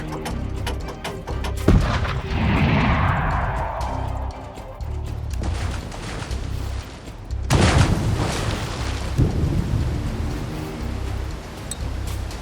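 Artillery cannons firing in a battle scene, a few heavy booming shots spaced several seconds apart, each followed by a rushing, rumbling tail, set against a constant battle din.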